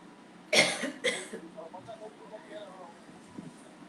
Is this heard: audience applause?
no